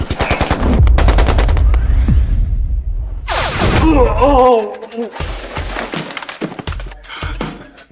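Loud, rapid gunfire in a drama scene, dense bursts of close shots and impacts, followed by someone shouting and more scattered bangs.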